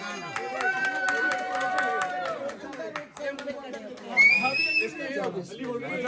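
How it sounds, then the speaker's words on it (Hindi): Hands clap in rhythm at a Barat wedding procession as guests are welcomed home, steady claps under lively chatter and calling voices, with a whistle-like tone rising near the end. "तालियां बजा दो भाई"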